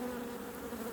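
Honey bees buzz steadily inside a hive, clustered low in the brood box while it is split using queen cells; a dense, continuous close-up hum with no talk.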